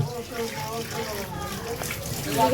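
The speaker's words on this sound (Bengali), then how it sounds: "কলাগুলো ধুয়ে দিতেছে" Bananas being washed under running water, with a steady splash and trickle heard up close beneath people talking, including children's voices.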